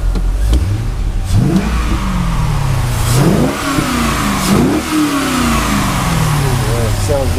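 A 2001 Chevrolet Corvette V8 revs several times in quick blips, each rising and falling in pitch, loud and close over a rumbling idle, with a voice talking around the revs.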